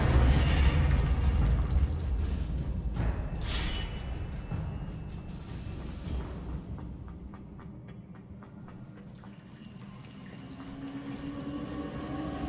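Confringo spell explosion in Hogwarts Legacy, a deep rumbling blast that fades into a lingering low roar, with a few faint crackles afterward.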